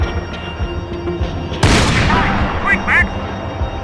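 Gunfire in Max Payne 3, a loud boom of a shot cutting through ongoing game noise with a ringing tail and a couple of smaller follow-up cracks, while a character speaks briefly over it.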